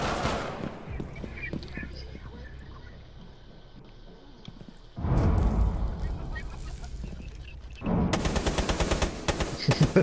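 Rapid automatic gunfire rattles in bursts during a Rainbow Six Siege match, the loudest stretches coming in the second half, with excited players talking over the shots.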